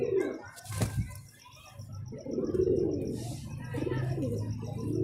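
Low, throaty cooing from a female pigeon repeats close by, with a faint rhythmic ticking and a brief clatter near the start.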